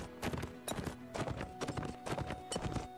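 A horse's hooves clip-clop in quick, even bursts in a video game, close and clear with a steady trotting rhythm and no talking.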